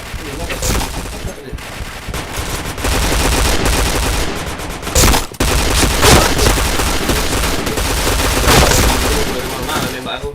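Rapid video-game gunfire with machine-gun bursts and single shots fills the clip loudly and almost continuously, with a few heavier booms and one brief drop near the middle.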